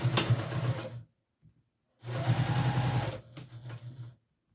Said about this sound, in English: So I'm going to just start to top stitch, starting from the top.